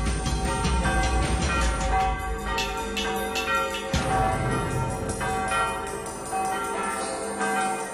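Barcelona cathedral bells ring loud and sustained from the bell tower, with overlapping metallic strikes and long ringing tones that clang in a dense, continuous peal.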